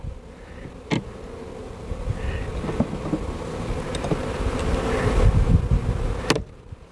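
Steady, droning hum of many honey bees buzzing close by at a hive, swelling louder toward the end, with a few sharp clicks and knocks mixed in.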